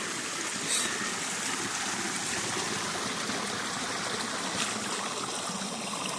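A small, shallow stream trickles and burbles over rocks near abandoned houses, a steady close wash of water running alone without pause.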